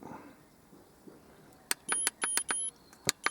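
Foxwell diagnostic scanner beeping: a quick series of short, sharp electronic tones, some clipped and some held briefly, in an irregular rhythm over a quiet background in a car.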